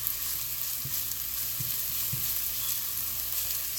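Onion and pepper sautéing in a pan, a steady faint sizzle with a few soft stirring bumps, no talk.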